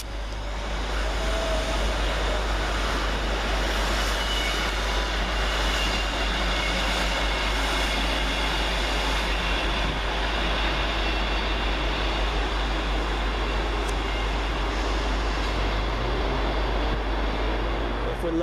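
East Midlands Railway unit 158813 on a Norwich to Liverpool Lime Street service at Peterborough station: a steady low engine rumble and rolling rail noise, continuous for the whole stretch, with no talk.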